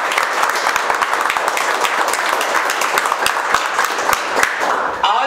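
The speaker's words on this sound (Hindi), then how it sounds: "एक बार जोरदार ताली की शुरुआत करेंगे" Loud, dense applause from a batch of students in a counseling class, sharp individual claps standing out close by within a continuous roar of hands that carries on throughout.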